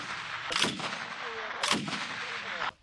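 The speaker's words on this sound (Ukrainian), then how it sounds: "Кулемет ДШК розроблений ще за часів Сталіна" Two heavy booming bursts from a DShK heavy machine gun at a front-line position, spaced about a second apart, each with a rolling echo over steady outdoor background noise.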